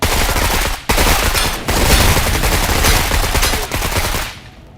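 A squad in the video game Menace opens fire, a loud, dense burst of rapid gunfire that runs almost continuously with a couple of brief gaps before it cuts off.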